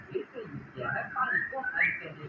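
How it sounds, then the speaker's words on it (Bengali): Songbirds whistle a few rising, chirping notes outside a house where cooking is underway; the calls grow more prominent midway, set against a low, murmuring domestic background. "কত সুন্দর পাখির আওয়াজ হইতেছে।"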